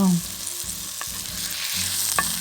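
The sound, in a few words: cabbage steak sizzling in a pan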